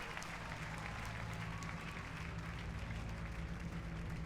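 A live audience applauds steadily throughout at a large game-publisher press conference after a Far Cry trailer, the clapping dense and sustained at a moderate distance.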